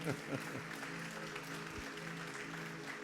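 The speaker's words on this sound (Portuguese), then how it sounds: "Você pode aplaudir o Senhor? Faça isso com alegria." A church congregation at an afternoon worship service applauds, a faint, steady wash of many hands clapping heard from a distance over a low background hum.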